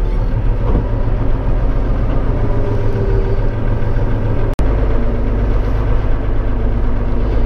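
A cold tractor engine idles steadily at around 1000 rpm, a loud, close, continuous low rumble with a constant mechanical drone and one brief dropout midway, no voices.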